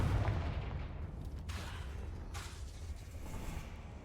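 A Confringo blasting spell goes off in Hogwarts Legacy as a loud, close explosive boom. Rumbling, crackling debris and two whooshing bursts follow as it decays over a few seconds, with no speech.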